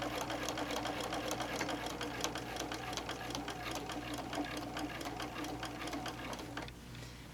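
Sewing machine stitching around the edge of a fabric bowl cozy, a fast steady run of needle clatter that carries evenly and close, then eases off near the end.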